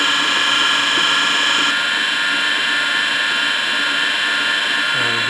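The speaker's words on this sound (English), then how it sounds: "We're just ready to start grinding it." A Brown & Sharpe No. 13 universal grinder runs with a steady, loud whine as its wheel grinds a tool holder, a sustained metallic hum that holds evenly throughout with a brief lower rumble at the very end.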